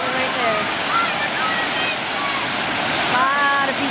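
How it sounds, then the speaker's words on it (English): Lower Tahquamenon Falls roaring as a steady, broad wash of falling water on a hot, busy day, with distant voices of swimmers and bystanders faintly audible over the constant rush. "this is lower Taqamenon Falls"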